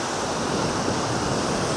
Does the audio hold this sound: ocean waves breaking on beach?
yes